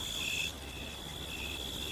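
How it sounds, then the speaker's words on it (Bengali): Crickets chirp in a steady, high, ringing trill around a village at night, faint and continuous with nothing else heard. "ঝিঝি পোকার ডাক"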